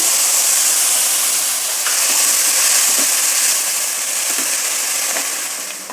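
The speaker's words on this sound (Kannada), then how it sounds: "ಎಲ್ಲ ತರಕಾರಿನೂ ಹಾಕಿದ್ದಾಯಿತು ಒಂಚೂರು ಹುರಿದಿದ್ದು ಆಯಿತು" Cabbage, frozen peas, tomato and other chopped vegetables fry in a pan with a loud, steady sizzling hiss that barely changes throughout.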